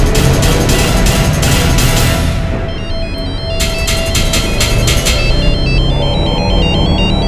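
A mobile phone ringtone plays loudly, a repeating electronic melody that pauses briefly midway and then resumes, with background noise underneath.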